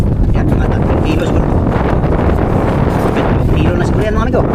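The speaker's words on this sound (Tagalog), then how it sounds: "Pero malakas pa rin ang hangin." Strong wind roars steadily across the microphone aboard a small fishing boat out at sea catching tamban, a loud unbroken buffeting rush with faint talk beneath it.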